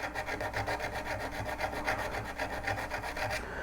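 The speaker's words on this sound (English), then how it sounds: "I'm going to use the India stone in the inside first" Rhythmic rasping strokes as a V-parting carving tool is worked along the inside on a coarse India sharpening stone, quick regular back-and-forth scrapes up close, stopping just before the end.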